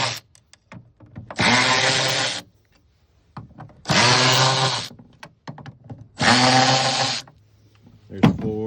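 A power driver whirs in three separate bursts of about a second each, backing out the 7mm screws that hold a tail light on a 2019-23 Ford Ranger pickup, close and loud, with light clicks in between.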